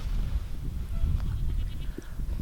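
Goat bleating on a farm, a short bleat that rises over a rough, rumbling background of wind or handling noise.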